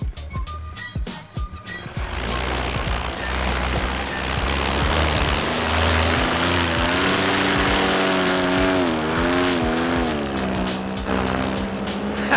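A paramotor engine and propeller roar loudly and steadily in flight after a few brief knocks, the drone rising and wavering in pitch as the craft maneuvers near other paramotors.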